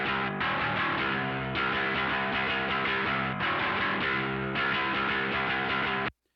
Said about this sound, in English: I've overemphasized the distortion on the sound amp pedal on this as well